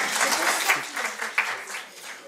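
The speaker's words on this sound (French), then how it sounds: "Vous pouvez m'applaudir, ça m'encourage" Brief applause from an audience at a colloquium opening on equine mediation, a short burst of scattered clapping that swells and then fades within a couple of seconds.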